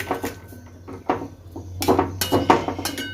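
Clanks and knocks of metal cookware in a home kitchen as a lid is set over a pot of cauliflower, several sharp clinks clustered toward the end, close and moderately loud, with no talking.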